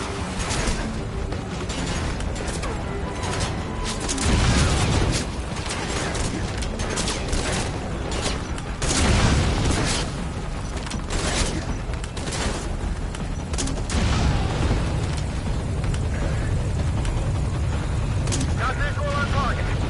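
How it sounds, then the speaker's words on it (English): Underbarrel grenade launcher blasts boom repeatedly during a Metal Gear Solid V: Ground Zeroes firefight, a few heavier bursts rising over dense, continuous gunfire and battle noise, with voices talking over it. "The rifle is an underbarrel grenade launcher. Put it to good use."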